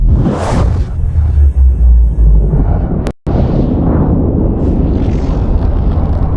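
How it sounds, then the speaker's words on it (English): Massive explosion in the video game Subnautica, a loud booming blast with a whooshing burst followed by a sustained deep rumble that cuts out briefly, then continues rolling. "Now logic would also dictate that being this close to the explosion would probably kill you."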